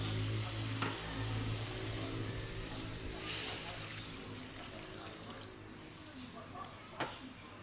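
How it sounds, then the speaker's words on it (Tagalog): Water is poured into a pan of sautéing sponge gourd, giving a faint, steady sizzle with soft splashing and stirring. A voice speaks over the cooking. "Lagyan natin ng tubig."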